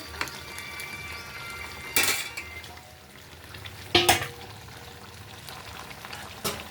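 Chow mein tipped from a small wok into a larger wok, with clattering metal scrapes and two sharp bursts of noodles sliding in over a steady background sizzle of frying.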